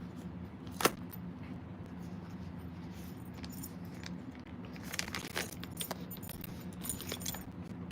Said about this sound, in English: zippers are falling out.